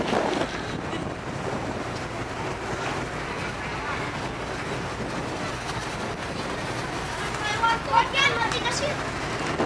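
Strong wind buffets a microphone on the open deck of a passenger ship at sea near sunset, a steady roaring gust with water and engine rumble beneath, while a person talks faintly under the noise.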